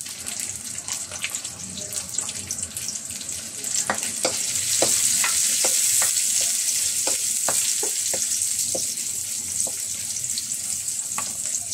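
Onion, ginger and garlic sauté in a pan for chicken chop suey, with a steady hiss of frying that swells after a few seconds and irregular clicks and scrapes of a utensil stirring through, no talking.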